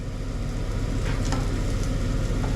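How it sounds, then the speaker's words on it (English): Chips frying in a pan on a gas hob, a loud continuous sizzle with crackling pops and a low rumbling hum underneath, no talking. "Make sure they're properly fried."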